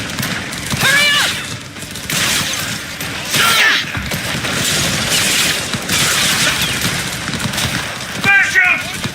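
Gunfire in the video game Cyberpunk: repeated bursts of shots and booming impacts in a dense, loud firefight, with voices shouting over the din.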